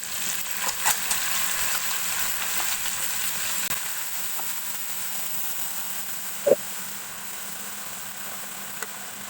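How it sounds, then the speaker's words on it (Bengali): Mashed potatoes go into a pan where an egg is frying, giving a steady, moderately loud sizzle with a faint hiss and a couple of sharp clicks of a utensil against the pan. "এখন আমি দিয়ে দেব সে মেখে রাখা আলুগুলো"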